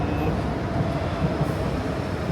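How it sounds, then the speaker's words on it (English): A Singapore MRT train comes in near a forested stretch, a low steady rumble with a faint rising whine, heard briefly from a walking path. "See, there's a train coming in."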